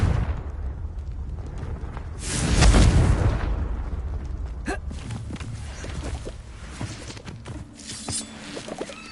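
A Confringo spell explodes in Hogwarts Legacy with a loud booming blast that swells and rumbles for about a second, then fades into scattered impacts and crackling game effects.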